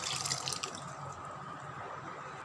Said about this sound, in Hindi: इसमें हम थोड़ा सा पानी ऐड कर लेंगे।